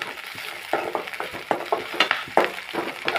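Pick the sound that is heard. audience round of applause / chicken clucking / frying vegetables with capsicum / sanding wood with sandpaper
frying vegetables with capsicum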